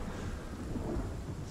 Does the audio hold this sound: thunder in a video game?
yes